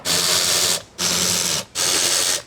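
A powered driver spins out T25 screws from the glove box of an Alfa Romeo Stelvio in three loud, close whirring bursts of equal length, separated by brief pauses.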